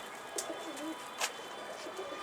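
Domestic pigeons, kept tumbler-type birds, coo softly in the background with a few low, rounded calls spread across a faint, steady room hiss; no one speaks.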